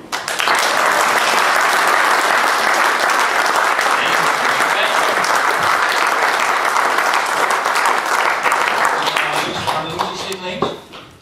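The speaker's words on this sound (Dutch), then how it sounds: "Dames en heren, eerst een applaus voor het echtpaar Hebben" Audience applause for a married couple at a municipal honours ceremony in Aalten, 2016: dense, loud, sustained clapping from a large crowd that carries on steadily for about ten seconds before thinning out at the end.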